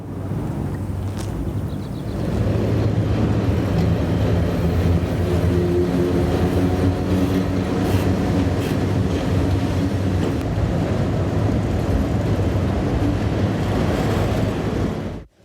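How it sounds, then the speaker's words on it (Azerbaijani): A freight train departs Biləcəri railway station, a steady low rumble with rolling wheel and wagon noise that swells after a couple of seconds and holds loud and continuous. "Hazırda qatar Biləcəri Dəmiryol stansiyasından Böyük Kəsik istiqamətinə yola salınır."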